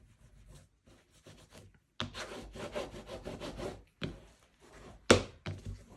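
Paper lining inside a bookbinding being rubbed down: a close, dry rasping rub in repeated strokes, some long and some short, separated by brief pauses.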